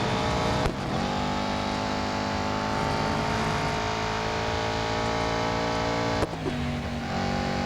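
Aston Martin Vantage GTE race car engine in Real Racing 3, a loud, steady high-revving drone held close throughout, with abrupt gear-change dips near the start and again near the end, no voices.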